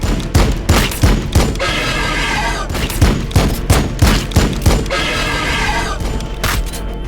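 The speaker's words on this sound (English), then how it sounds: "Firing on the enemy." Loud rapid gunfire from the Warhammer 40K Battlesector video game, with heavy, booming shots in quick succession and stretches of sustained automatic fire and rumble.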